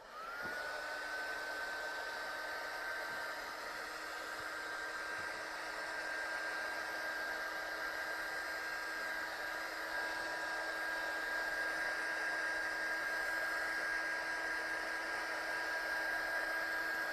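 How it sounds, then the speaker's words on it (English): Heat gun drying distressed oxide ink on a handmade card, a steady continuous blowing whine with a fixed tone, running unbroken at moderate level from start to finish. "I'm just going to blast this off with the heat gun, just so that the distressed oxide doesn't smudge"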